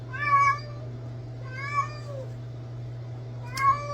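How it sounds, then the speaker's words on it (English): A female cat in heat cries out for a mate in the middle of the night, three drawn-out yowling meows rising and falling over a steady low hum, fairly close and loud. "listening to her crying out for a male cat to mate with in the middle of the"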